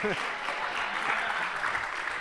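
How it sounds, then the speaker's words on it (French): A crowd at a closing political meeting claps and cheers, dense continuous applause filling the whole short stretch with faint voices mixed in. "On peut l'applaudir, oui, bravo à lui."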